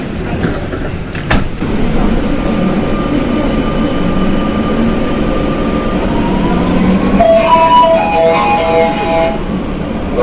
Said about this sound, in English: This has got a similar train to the older trains on Line 3, except it's not got the middle cab door.